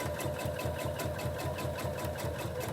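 Sewing machine, an FAF 5.2, stitching a fabric mask, running steadily at close range with a fast even rhythmic chatter throughout and no talking.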